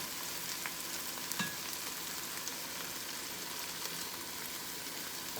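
Roux hitting a pot of tomato paste for a Louisiana sauce piquant gives a steady, soft frying sizzle with faint crackles, continuous throughout and heard alone without talk.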